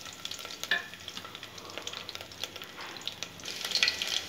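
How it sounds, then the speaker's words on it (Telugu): Four crushed garlic cloves fry in hot oil while being cooked for sambar, a soft, continuous crackling sizzle with brief brighter pops, building slightly toward the end, close and fairly quiet, with no speech. "ఇవి కొంచెం గోల్డెన్ బ్రౌన్ వచ్చేదాకా వేయించుకుందాం."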